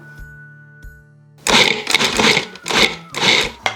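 Bursts of a mixer grinding a black bean burger mixture with chopped onion, several loud coarse pulses with short pauses between them, following a quiet start with a few soft knocks.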